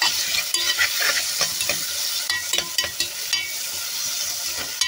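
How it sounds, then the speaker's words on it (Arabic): Chopped onions frying in hot ghee are stirred in a pan, a steady sizzle broken by close scraping and clinking strokes of the spoon at an irregular pace. "السمنه قدحت معايا، هنزل بالبصل، نقلب كده تقليبه حلوه."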